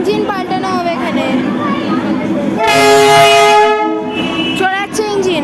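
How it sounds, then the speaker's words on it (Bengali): A train engine departs a North Bengal station with a loud horn blast partway through, amid rumbling and voices nearby. "চলে যাচ্ছে ইঞ্জিন।"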